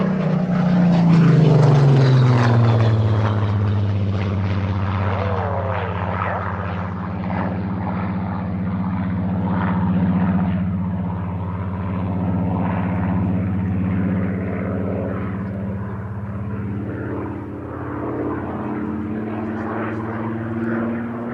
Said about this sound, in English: watching multiple Hurricanes and Spitfires in Cambridgeshire skies